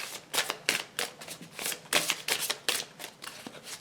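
Tarot cards riffled and shuffled by hand in rapid bursts of crisp, papery flutters, close and fairly loud, with no one speaking.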